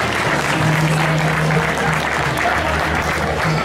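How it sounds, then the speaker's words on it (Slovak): A crowd at a running race event claps loudly for two participants from Ivanka. The clapping is dense and continuous, close and sustained for several seconds. "Obrovský potlesk pre obidvoch Ivančanov."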